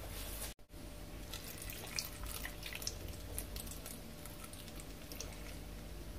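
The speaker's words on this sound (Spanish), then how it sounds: "entonces le voy a echar un poquito de agua." Water pours in a faint, steady trickle into a blender jar while gazpacho is being prepared, preceded by a brief clunk near the start.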